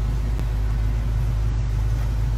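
Idling V8 engine of a Pontiac Trans Am with the "screaming chicken" hood decal, parked in a Houston mansion's car collection: a steady, loud low rumble that continues without a break and without speech.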